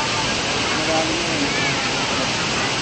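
Daranac Falls waterfall roaring steadily and close, a dense continuous rush of falling water with faint voices under it.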